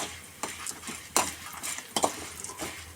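Lentils and curry leaves frying for chammanthi podi, stirred in a pan with sharp scraping strokes at irregular intervals over a soft steady sizzle, close and moderately loud.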